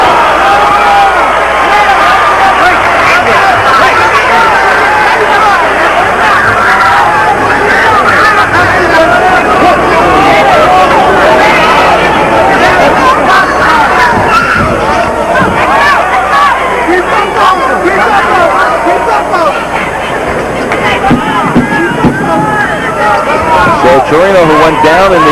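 A hometown boxing crowd at a middleweight bout roars and chatters continuously, a dense, loud wall of cheering and babble that never lets up.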